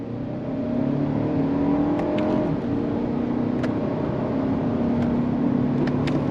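A 2024 Lexus TX 500h F Sport hybrid SUV accelerating hard through the gears of its 6-speed automatic in manual shift mode, a steady loud engine drone with rising and falling tones and faint clicks, heard from inside the cabin.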